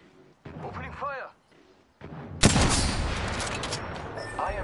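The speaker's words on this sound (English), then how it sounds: "Opening fire." Gunfire in a video game: after brief voiced callouts, a loud burst of rapid shots erupts and continues as a dense, sustained fusillade to the end.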